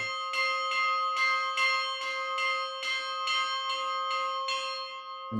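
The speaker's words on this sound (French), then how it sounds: "Nous voyons sonner la cloche, justement pour avertir pour le petit déjeuner." A monastery bell at the Great St Bernard Hospice rings out to call the community to breakfast, a steady series of about a dozen evenly spaced, resonant strikes with long ringing overtones, clear and alone.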